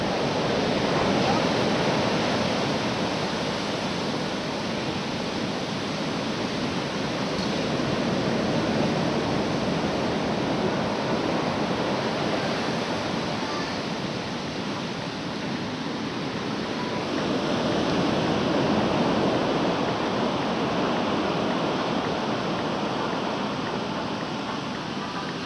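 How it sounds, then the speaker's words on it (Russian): Sea waves break continuously on a Sochi shore, a loud, steady roar of surf and foam that swells and ebbs gently throughout. "Смотри, какая волна пошла."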